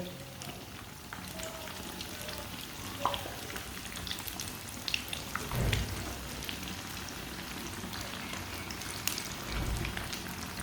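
A sandwich fries in a pan after being flipped, giving a steady close sizzle like light rain, with a few soft knocks and scrapes from a spoon.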